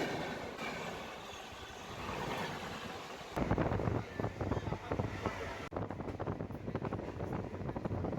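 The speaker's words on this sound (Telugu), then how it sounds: "పెంబర్తి రైల్వే స్టేషన్ నుంచి అయితే ట్రైన్ స్టార్ట్ అయింది" A MEMU train pulls away from Pembarti railway station with a steady rolling rumble and rhythmic clatter, buffeted by wind noise, while someone talks intermittently.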